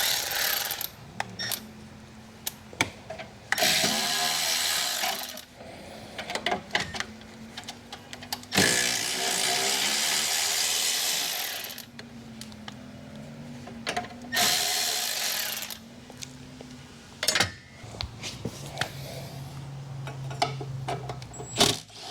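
A ratchet works on the 7/16 shield bolts of a Walker mower, with irregular bursts of clicking, clanks and broad scraping noises, close by, with pauses between efforts and no talking.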